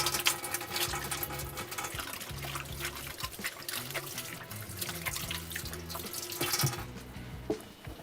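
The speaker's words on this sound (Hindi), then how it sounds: "हाथ धो लेते हैं" Hands being washed under a running kitchen tap, a steady close stream of water splashing into a sink with shifting gurgles and splatter throughout, ending with a brief clatter.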